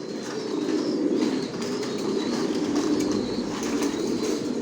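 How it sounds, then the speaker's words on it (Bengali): Racing pigeons fill a loft with a steady, crowded murmur of low cooing that runs unbroken and evenly loud throughout. "সব কোয়ালিটি সম্পন্ন কবুতর পালি, রেস করা, রেজাল্ট করা কবুতর।"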